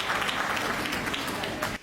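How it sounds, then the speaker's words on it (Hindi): Loud audience applause fills a large hall after a comedy stage performance, dense and steady with some voices mixed in, then cutting off abruptly near the end. "मैं चाहता हूं आप अपने सम्मान में एक बार जोरदार तालियां बजाइए"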